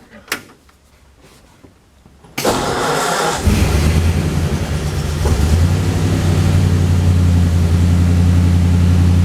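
A 1935 Ford engine, run with a little choke, cranks briefly then fires and settles into a loud, steady idle with a low rumbling hum, heard close up after a few quiet clicks and rustles.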